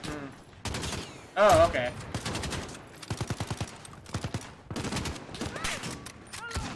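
Rapid automatic gunfire rattles in Call of Duty Modern Warfare, with several bursts and single shots at close and mid range and a loud blast near the start, while a player talks over it.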